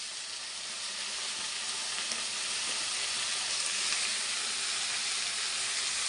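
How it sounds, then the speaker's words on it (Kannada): Mint leaves and onions fry in a pan for onion chutney, giving a continuous close sizzle and hiss with faint stirring, and no voices over it. "ಸ್ವಲ್ಪ ಚೆನ್ನಾಗಿ ಫ್ರೈ ಮಾಡ್ಕೊಳ್ಳೋಣ"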